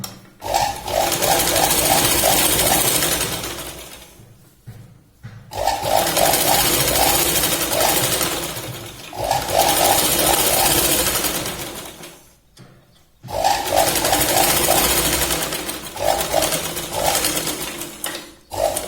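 A sewing machine stitches a katori blouse in three long bursts of rapid, steady needle clatter, each run separated by a short pause, close and fairly loud.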